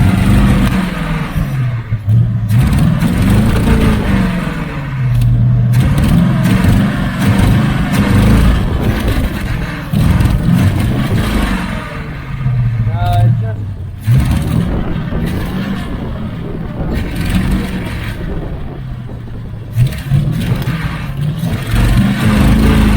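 A 1980 Camaro Z28 with new headers and a four-barrel carburetor revs hard and close, its engine surging and falling in repeated rhythmic waves for about twenty seconds, loud and alone.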